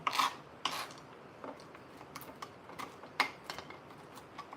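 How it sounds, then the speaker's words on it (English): Walnuts chopped by hand with a knife for a homemade apple cake, heard as a close, light series of irregular dry taps and short rasping cuts, with a faint steady hiss of rain in the background. "I'm just chopping some walnuts to go in our Nana's apple cake"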